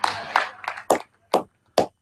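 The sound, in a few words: applause for a speech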